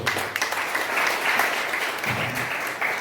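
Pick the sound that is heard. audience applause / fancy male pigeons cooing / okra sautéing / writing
audience applause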